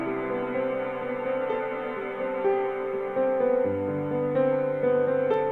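A thick, held wash of reverb from a reverb plugin's freeze mode that freezes chords into a continuous drone, with new notes layering on top and no talking.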